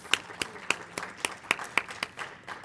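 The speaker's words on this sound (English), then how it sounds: "Can I have a round of applause for the panelists, please?" Sparse applause for panelists at a women's history month event, a few clearly separated claps at a steady rhythm from a small group, fairly near and moderately quiet.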